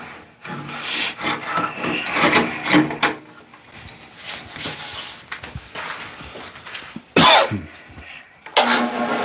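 Sanding a wooden bowling pin, bursts of raspy rubbing strokes against the wood, close and uneven, with short pauses between passes.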